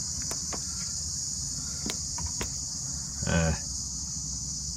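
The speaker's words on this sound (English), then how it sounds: "the crickets are savage today, or cicadas or whatever they are" A dense, steady high-pitched insect drone of crickets fills the scene, with scattered clicks and a brief low rumble partway through.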